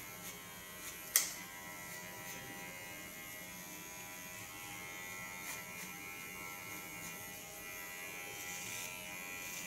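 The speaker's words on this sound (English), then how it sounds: "Put the blades to the back and use the clipper as a comb." An electric hair clipper runs with a steady high buzz as it cuts the sides of an asymmetric haircut, blades turned back and used like a comb, with one brief sharp click near the start.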